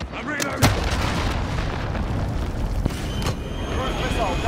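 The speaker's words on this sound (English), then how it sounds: "Enemy cruise missile incoming." A cruise missile strike lands in the Modern Warfare Ground War video game, with heavy booming blasts, sharp cracks of gunfire and a dense rumbling battlefield throughout, while game voice callouts sound over the chaos.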